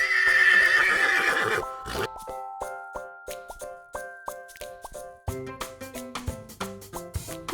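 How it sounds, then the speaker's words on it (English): A horse gives a loud, clear whinny in the opening second and a half, its high trembling call fading out, followed by a bright plucked music track with steady notes and no voices. "Horse."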